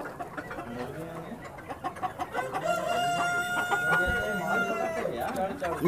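A Plymouth Rock rooster crows loudly over a background of clucking hens, with barnyard chatter and some faint voices around.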